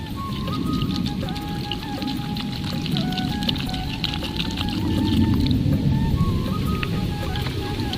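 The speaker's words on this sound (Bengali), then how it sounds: "এবার আমি আমগুলো জল দিয়ে পরিষ্কার করে ধুয়ে নেব" Raw green mangoes are rubbed clean by hand in a basin of water, giving continuous sloshing, splashing and dripping with small knocks, plus faint background tones; no speech is heard.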